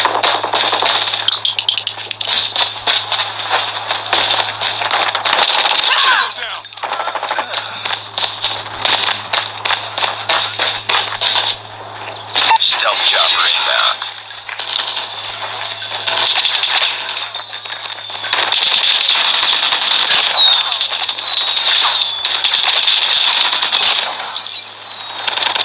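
Rapid, continuous gunfire from the LK24 rifle with an American flag camo that shoots fireworks in Call of Duty Mobile, sustained bursts with brief pauses, loud and close, with no talking.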